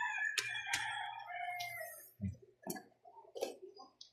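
A chicken gives a drawn-out call followed by a few short, separate clucks, fairly close with quiet pauses between them.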